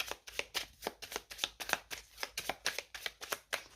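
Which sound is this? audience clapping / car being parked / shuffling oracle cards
shuffling oracle cards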